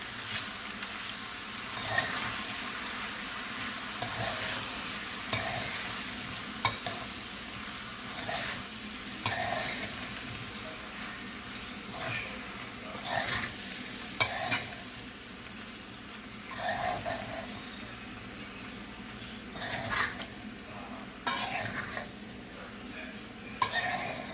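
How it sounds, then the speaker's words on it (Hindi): Sausages, egg and tomato stir-fried together in a pan for Thai-style pasta: a continuous soft sizzle with repeated scraping stirs and occasional light clinks of utensil on metal, close and fairly quiet. "सॉसेजेस, अंडा और टमाटर शामिल करेंगे और अच्छे से इसे मिक्स करेंगे"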